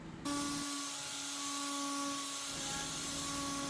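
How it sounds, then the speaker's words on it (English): Shop vacuum hooked to a sander whirs at a steady, loud drone while an end grain cutting board is sanded, the hum holding constant with a faint rubbing texture beneath. "When sanding, it is really best to use a vacuum attached to it."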